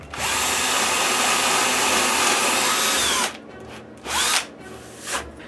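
Power drill with a brad-point bit boring a 5/16 inch hole in wood, a loud steady whine for about three seconds, then stopping, followed by two short bursts.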